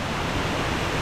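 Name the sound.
large waterfall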